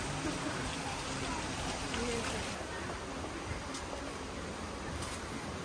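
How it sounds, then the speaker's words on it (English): Steady hiss of rain falling on foliage and surfaces all around, constant and moderately loud with no talking. "It's raining."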